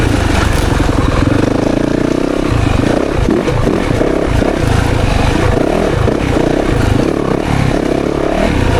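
A 2024 Yamaha YZ 450FX dirt bike rides through the woods, its engine loud and close, repeatedly revving and dropping with choppy throttle bursts and rattling clatter throughout.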